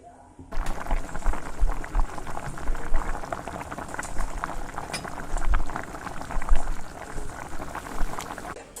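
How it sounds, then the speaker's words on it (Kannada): Two tomatoes boil in a pot of water on the stove for sambar, giving a steady, close bubbling and hiss that rolls on with small pops for the whole stretch, with no talk over it. "ಅದಕ್ಕೆ ನಾನು 2 ಟೊಮೊಟೊಗಳನ್ನ ಹಾಕಿ ಚೆನ್ನಾಗಿ ಬೇಯಿಸ್ಕೊಳ್ತೀನಿ."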